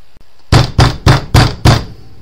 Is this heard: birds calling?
no